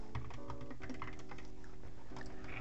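Code being typed for a Roblox game on a computer keyboard, with quick, uneven keystrokes clattering close by over a steady tonal background.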